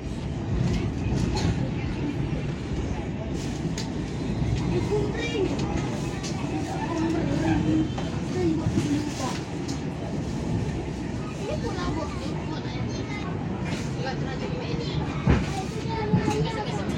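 Continuous rumble and rhythmic clatter of the Kuala Stabas train crossing the Komering River bridge in Indonesia, heard from inside a carriage, with a low steady drone throughout.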